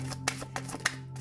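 Tarot cards being shuffled by hand, giving a few soft, quick riffling bursts close up over a low steady hum.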